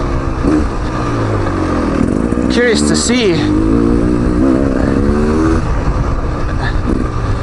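A 2019 Beta Xtrainer 300 two-stroke dirt bike engine drones loudly and steadily throughout while riding downhill, with shifting revs, while a person talks over it briefly.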